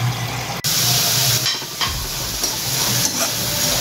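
Steady hiss and sizzle of potatoes cooking under a lid in a pan for poha, with a faint clink near the start and gentle fluctuations, no voices.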